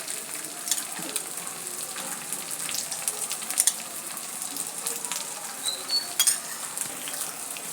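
Oil sizzles steadily around sabudana appe frying in an appe pan, a constant close hiss with small pops and occasional clinks of utensils, no voices.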